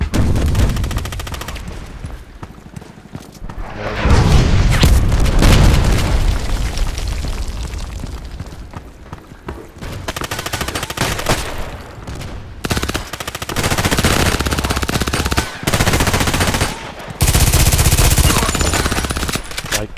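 Kedr SMG fire in the online shooter Contract Wars, repeated rapid bursts of automatic gunfire with booming reports and short pauses between volleys, loud and close, with game ambience in the gaps.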